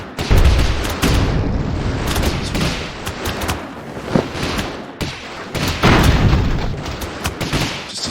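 Rifle gunfire from airships in the video game Airships: Conquer the Skies, loud rapid bursts and booming volleys crackling in uneven clusters, with heavy low thuds between sharp cracks.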